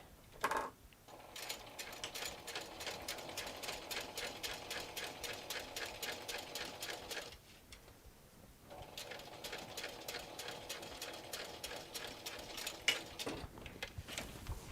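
A sewing machine stitching a sling bag runs in two steady whirring bursts of rapid needle chatter, separated by a short pause, fairly quiet and close.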